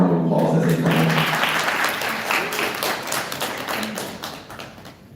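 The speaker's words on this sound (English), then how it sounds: "let's all give them a round of applause as they come up" Audience applause at a conference session as presenters come up, a dense burst of clapping that fades gradually, with a voice briefly audible at the start.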